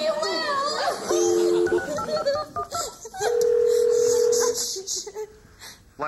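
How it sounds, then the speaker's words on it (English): Telephone dialing tones sound in a comedy sketch, a short pair of keypad beeps and then a longer steady tone, mixed with talking and laughter from a child and adults. "Let's get Rick on the phone"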